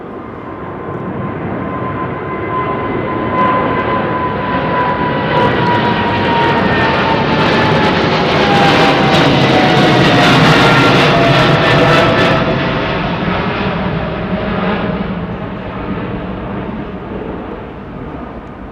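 A Boeing 777 jet airliner passes loud and close, its engine roar swelling to a peak midway with a descending whine, then slowly fading, with no talk over it.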